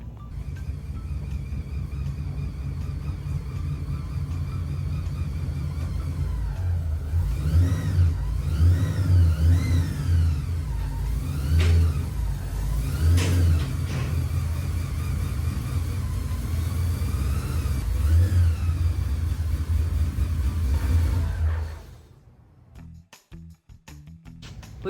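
A Pontiac GTO idles and is driven slowly into a shop onto a four-post lift, its engine rumbling steadily with several short revs mid-way before cutting off near the end.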